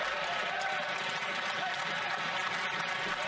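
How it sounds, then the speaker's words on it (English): Members of the Canadian parliament cheering and jeering, a dense, continuous roar of crowd voices and applause filling the chamber, loud and unbroken for a few seconds. "The cheering, the jeering."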